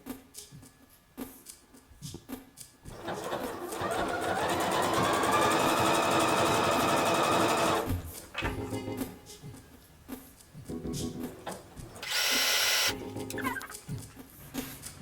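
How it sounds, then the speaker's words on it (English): A sewing machine stitches a seam around the edge of a stretch-fabric sleeve, whirring in one long steady run of several seconds, then a shorter burst after a pause, close up with no voices. "And now I can make nice straight seam even from the edge of sleeve all the way around."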